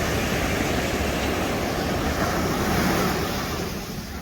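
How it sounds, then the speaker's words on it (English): Ocean surf at Laguna Beach roars steadily and loudly, with a continuous wash of breaking waves and wind buffeting the microphone, easing slightly near the end. "It's just like I'm so scared of the waves."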